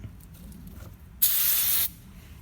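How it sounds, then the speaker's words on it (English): Brake cleaner sprays from an aerosol can onto the injectors of a Toyota Hilux Vigo in a single close, loud hissing burst lasting under a second, with quiet before and after. "We'll grab a can of brake cleaner."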